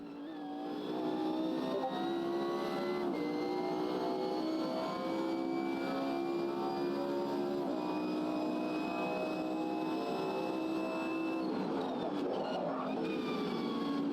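Simulated race car in Automobilista 2 at high speed, a steady loud engine whine with rising and falling harmonics as it shifts, continuous and close throughout with no talk.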